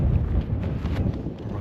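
Steady wind on a mountain walk near Cnicht and slate quarries buffets the microphone with a low, rumbling roar that stays constant throughout, with no voices.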